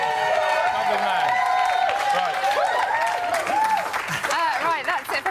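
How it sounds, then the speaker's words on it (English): Studio audience applauding and cheering for John James on a Big Brother live show, a steady dense wash of clapping with some crowd voices mixed in throughout. "give him a big round of applause"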